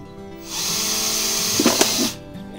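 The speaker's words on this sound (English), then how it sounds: "we could drill holes in the bottom" A power drill spins up and whines steadily for under two seconds, with a brief grinding chatter near the end as it bores holes in the bottom of a plastic pot.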